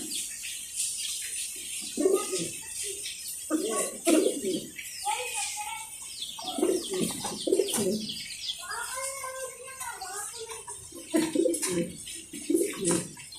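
Pigeons at a pigeon farm coo repeatedly in low, throaty phrases, close by, along with chirps and occasional wing flaps over a faint high background hiss.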